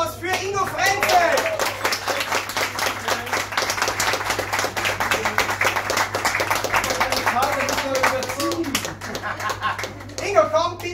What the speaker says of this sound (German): noch einmal einen großen Applaus